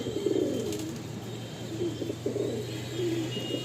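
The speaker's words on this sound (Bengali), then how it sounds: "ফুল অ্যাক্টিভ প্রত্যেকটা পায়রা" Malwai pigeons coo softly in a loft, their low rolling calls repeating in short overlapping bursts over a steady background hum.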